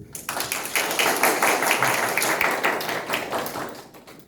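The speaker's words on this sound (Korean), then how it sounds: "생각보다 박수를 많이 주셔서 감사합니다" An audience at a church worship event gives sustained applause, dense continuous clapping from many hands close by, steady and loud throughout.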